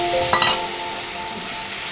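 Chopped tomato and ground spices, including chilli and cumin powder, sauté in a pan for a Bengali rupchanda fish curry, giving a loud steady sizzle with a brief stirring scrape near the start.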